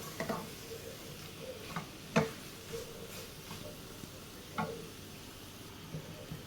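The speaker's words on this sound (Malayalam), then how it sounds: "ഒരു 5 മിനിറ്റ് നമുക്ക് ഈ മസാലയ്ക്കകത്തിട്ടിട്ട് ഈ ചിക്കൻ ഒന്ന് വഴറ്റിയെടുക്കാം." Chicken pieces stirred and sautéed in masala in a pan for jackfruit chicken biryani, a quiet background sizzle broken by several sharp spoon scrapes and knocks against the pan at irregular intervals, close by.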